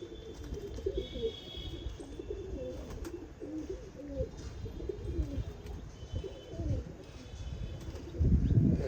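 Soft, repeated throaty cooing from pigeons close by near a water tank, rolling in steady phrases, with a louder rustle near the end.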